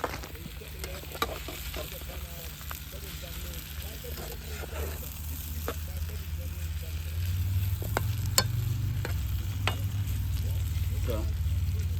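Pepper prawns fry in a pan during an outdoor riverside dinner, a steady sizzle with occasional stirring clicks and a low rumble growing louder partway through, while people talk over it.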